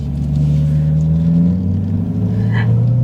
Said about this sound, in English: Now let's go on a drive on the C8 Z51 Corvette.